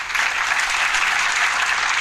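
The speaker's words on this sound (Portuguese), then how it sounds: "Um aplauso para ela aqui" A seminar audience at a municipal governance event in Brazil bursts into steady, dense applause that fills the room evenly from start to finish, with no speech over it.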